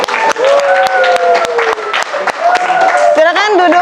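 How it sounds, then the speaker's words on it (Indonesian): Students clapping in a classroom, loud close-up applause with sharp individual hand claps cutting through, while voices talk and call out over the clapping. "beri tepuk tangan dulu."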